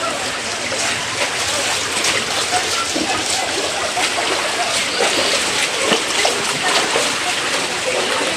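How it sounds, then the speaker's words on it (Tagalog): Typhoon Amang floodwater surging through and into houses in Naga City, Camarines Sur, a loud, continuous rushing and sloshing wash of water filling the scene, with voices nearby. "Grabe ang baha, guys."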